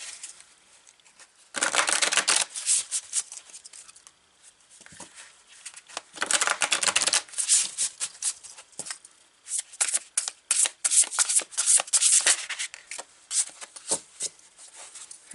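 Tarot cards being shuffled and picked, heard as close, crisp riffling and flicking in several bursts separated by brief quiet gaps, with no talk.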